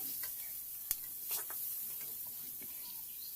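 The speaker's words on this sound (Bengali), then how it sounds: "সমস্ত কিছুকে এবার আমি ফ্রাই করে নেব" Carrots with red and green bell peppers frying in a pan for chicken soup, a quiet steady sizzle broken by a few faint clicks and scrapes of stirring.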